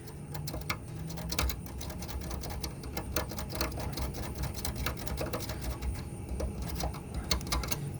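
Small hand files scuff the metal surface of a leaky radiator to prepare it for soldering, giving a steady run of quick, close rasping strokes with sharp scratchy clicks throughout.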